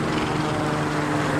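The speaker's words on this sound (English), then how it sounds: "look at that helicopter." A helicopter passes right above a house in Phoenix on a cloudy day, its continuous droning rotor and engine hum steady and fairly loud.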